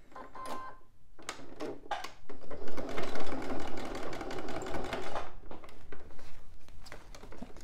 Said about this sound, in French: je couds à 1 cm des bords